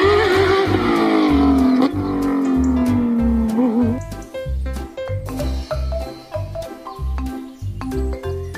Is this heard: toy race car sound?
yes